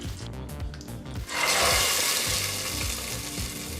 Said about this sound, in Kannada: ಈಗ ನಾವು ರೆಡಿ ಮಾಡೋದಂಥ ಒಗ್ಗರಣೆನ ಕುಕ್ಕರ್ಗೆ ಸೇರಿಸ್ಕೊಳ್ಳೋಣ